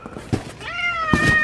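House cat meowing up close, one drawn-out rising and falling meow with a short extra call, loud and clear over faint rustling in a room being cleared for a trip.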